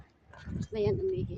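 A dog whimpers with a brief high whine over a person talking nearby.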